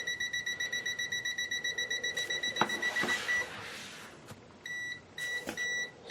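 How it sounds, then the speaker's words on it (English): An Extech MN62 multimeter detecting a live wire emits a rapid, regular train of small beeps, then a few scattered clicks and handling noises, followed by shorter beep bursts, heard close and alone. "Then as we get closer, it comes up with more little dashes and beeps quicker."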